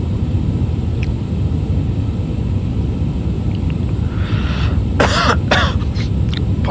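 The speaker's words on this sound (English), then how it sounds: "Little cough." A person coughs and clears their throat several times in quick succession, sharp close bursts over a steady loud cabin-like rumble during a simulated airliner flight.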